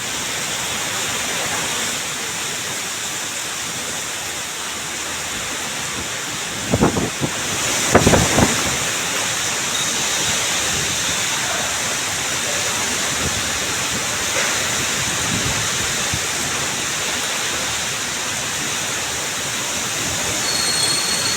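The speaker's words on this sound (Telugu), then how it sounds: "మియాపూర్, పంజాగుట్టలో వాన కురుస్తోంది." Steady, dense hiss of rain falling across Hyderabad's Miyapur and Panjagutta areas, continuous and fairly loud, with a couple of brief thumps and knocks standing out near the middle.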